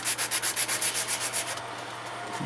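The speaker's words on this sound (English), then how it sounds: "go buy yourself a sanding block and plan on spending a little time, you know, just making it flat" Sanding block rubbed back and forth to flatten a part during a Simplecopter 3.0 build, about a dozen quick rhythmic scraping strokes close up, then stopping.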